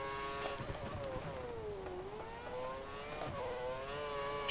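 Formula One race car engine in F1 2013 at Estoril, a steady high-pitched whine that dips and climbs again as the car accelerates, heard alone at moderate level.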